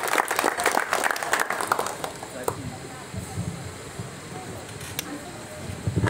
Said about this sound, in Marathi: सर्व शिवभक्तांनी टाळ्या करायच्या आहेत